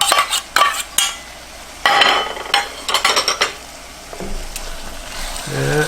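A spoon mixes a cup of salsa into a Dorito beef casserole, wet scraping and clacking strokes against the dish in uneven bursts, close and fairly loud, with a brief pause midway.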